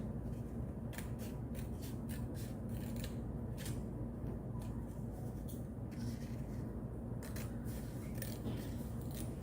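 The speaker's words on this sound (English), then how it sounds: "and now I'm gonna start cutting my frame out" Scissors snip steadily through a craft frame shape being cut out along drawn lines for a wooden frame, a continuous close rubbing and clipping texture with repeated sharp snips over low background rumble, no talk.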